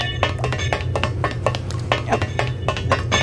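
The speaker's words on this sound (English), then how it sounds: "you can hear the game, you can hear it kind of clanging off in your right ear" Repeated metallic clanks and clinks in an irregular rhythm over a steady low hum, like objects knocking together in a scene from the video game Manamon 1.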